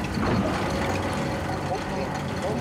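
A 1908 vintage racing car engine starts up, a loud broadband rumble and roar filling the space close by, with a voice partly audible under the noise.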